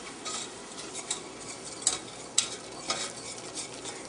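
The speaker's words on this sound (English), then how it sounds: "In goes the flour. And now I'm going to whisk it." Flour being whisked into melted butter in a pan for turkey gravy, with a steady scraping stir and a few sharp clicks of the whisk against the metal, close and moderately quiet.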